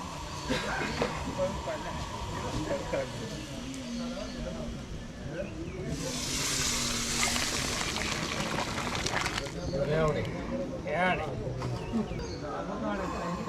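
Tempering (tadka) hisses and sizzles for wild undhiyu being cooked outdoors near Girnar; a loud burst of sizzling swells for a few seconds midway, under steady talking voices.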